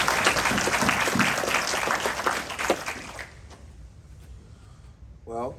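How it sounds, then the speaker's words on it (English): An audience applauds at a 4th degree black belt promotion ceremony, a few seconds of steady clapping that fades into quiet, and then a voice speaks briefly. "So let's give him a round of applause again."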